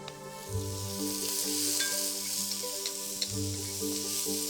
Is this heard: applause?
no